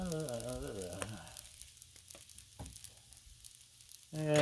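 Shrimp stir fry sizzles faintly on a Blackstone griddle, a soft hissing with a few scraping stir sounds, while a voice hums over the start and end.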